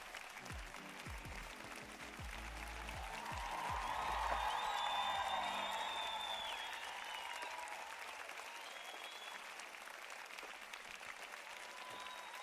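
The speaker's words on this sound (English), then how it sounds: "applause for the ranger" An audience claps in sustained applause for a ranger character during a live Dungeons & Dragons session, a steady wash of hands that swells in the middle and then settles, heard at low level.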